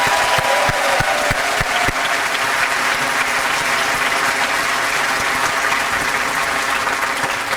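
Sustained, dense applause from a large audience at a high school commencement ceremony, steady and loud throughout with a few sharp claps standing out early on.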